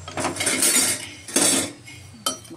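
A spoon mixing salt into vegetables in a pot before pressure cooking, three close bursts of metal scraping and clinking against the pot.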